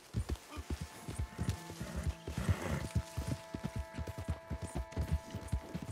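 Horse hooves clip-clop in a steady rhythmic gait while riding in the Red Dead Redemption 2 video game, moderately close, with faint background game sounds.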